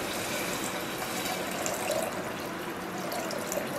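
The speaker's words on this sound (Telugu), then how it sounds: "ఇప్పుడు వాటర్ యాడ్ చేస్తున్నాను" Water poured into a pan of oats being cooked makes a soft, continuous splashing gush, fairly faint and even throughout, with no talking over it.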